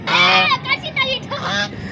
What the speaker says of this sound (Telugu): రియల్ బాతులు